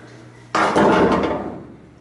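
A single sharp hammer blow on the steel floor pan of a 1971 Camaro, a loud metallic knock that rings briefly before fading.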